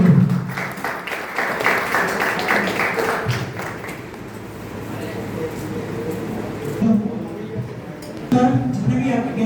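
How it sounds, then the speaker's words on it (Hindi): Audience applause at a health and wealth awareness program, a broad patter of clapping that swells and fades across the stretch, with a voice speaking over it near the end. "एक बार जोरदार तालियां आप सब लोग"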